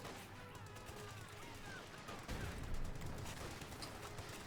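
Light machine guns rattle in Company of Heroes 2, a Wehrmacht versus US Forces match, with paratroopers firing on Grenadiers. The bursts run continuously among other battle noise and grow louder after about two seconds.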